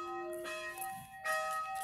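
Church bells ring in a clear, sustained peal, their tones overlapping and swelling again partway through, with no talking over them.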